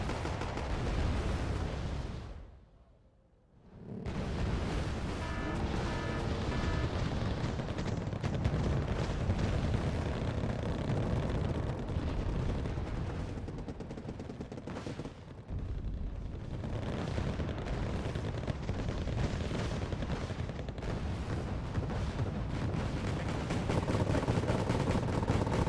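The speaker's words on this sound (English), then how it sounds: "We received so many airstrike on that position." Airstrikes pound a position in Wargame Airland Battle, a dense, continuous barrage of explosions and gunfire with heavy rumble, briefly dropping out near the start and then roaring on steadily.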